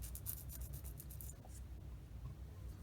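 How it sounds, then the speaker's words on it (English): Sandpaper scratches over a cut plastic part on a 1/35 Meng Jagdpanther Ausf G1 scale model kit, giving quick, close, raspy strokes in the first second and a half, then a softer, steady background hiss. "sand where I cut it there"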